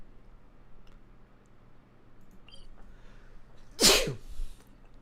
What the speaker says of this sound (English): Shark sneeze.